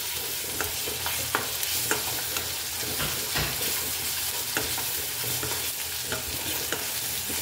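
Onions and a little ginger frying in a pan crackle with a steady close sizzle, while a utensil stirs and scrapes at irregular moments throughout.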